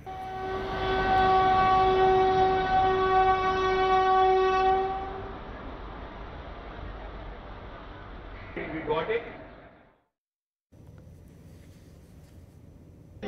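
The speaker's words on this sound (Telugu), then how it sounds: "మొట్టమొదటిసారిగా విస్తాడోమ్ ట్రైన్ ఇక్కడి నుంచి అరకుకి స్టార్ట్ అయింది" A Vistadome coach train on its first run toward Araku sounds a long, loud, steady horn for about five seconds, then settles into a continuous rumble of rolling stock, with a brief gap before the low rumble resumes.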